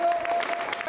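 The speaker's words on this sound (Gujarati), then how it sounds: "વડીલો પોતાની જગ્યા પર ઊભા થઈ અને એકવાર આ વિજયભાઈ અને એમની ટીમ માટે તાળીઓ પાડો." Elders standing at a village honouring event for parents clap together, a brief, dense burst of crowd applause heard up close, with a faint tone running under it.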